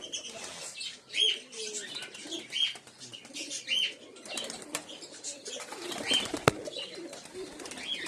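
Giribaz and Madrasi pigeons in a loft at evening feeding, with soft repeated coos, scattered chirps and bursts of wing flapping close by, no voices.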